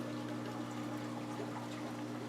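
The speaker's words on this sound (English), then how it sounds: "Gonna pour a little bit of our peroxide in our lid." Hydrogen peroxide trickles steadily from its bottle into the bottle's plastic lid, a soft continuous pour over a constant low background hum.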